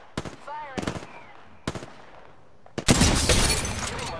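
Gunfire in the video game Apex Legends: a few separated single shots with a voice in between, then a loud sustained burst of automatic fire close up.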